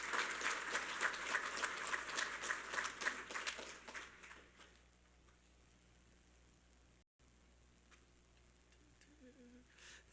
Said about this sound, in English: Let's give another round of applause to those students and instructors.